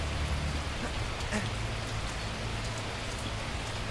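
Steady, dense rainfall in the black-and-white video game Dream Alone, a continuous loud patter of drops hitting surfaces with no pauses.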